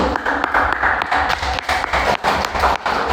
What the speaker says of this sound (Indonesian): Tepuk tangan untuk Hanon.